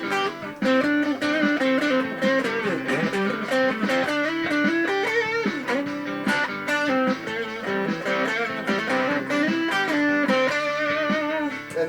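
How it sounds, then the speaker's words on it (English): Driven chords and melodic runs come from a Jim Deacon 24-inch Strat-style electric guitar with a Coiladder switch in position 4, three pickups on, played loud and close without pause. "Then position 4 is these 2 and this one, so 3 pickups on again."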